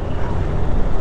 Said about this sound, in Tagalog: Malakas na yung hangin.